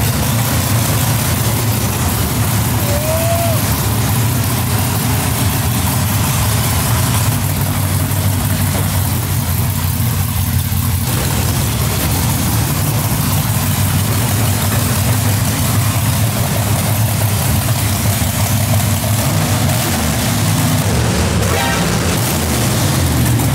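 A freshly built 632ci Chevy big block V8 in a 1000hp third-generation Camaro runs on its first start, rumbling loud and close at a steady lumpy idle for the whole stretch, with only slight shifts in tone.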